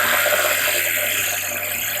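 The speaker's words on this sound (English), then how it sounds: "I just set up to drill carefully" A drill bit grinds steadily through water-covered material with a constant high whir and a gritty, buzzing edge, close and unbroken throughout, with no talking.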